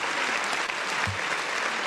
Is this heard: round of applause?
yes